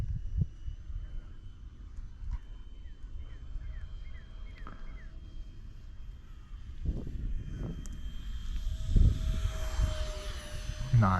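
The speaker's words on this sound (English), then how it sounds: "So yeah, 3D is really capable with this airplane, the FX9635." A DEERC F-35 FX9635 RC airplane flies 3D manoeuvres outdoors in picking-up wind, its small electric motor whining and shifting pitch as it passes near and far, with wind buffeting the microphone.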